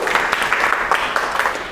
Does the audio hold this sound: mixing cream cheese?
no